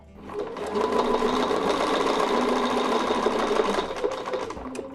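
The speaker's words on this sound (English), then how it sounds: "We're going to stitch the path the template is providing" A sewing machine runs steadily, stitching a path along a quilting template. The motor makes a continuous, rapid, even whirring chatter for about four seconds, then slows and stops.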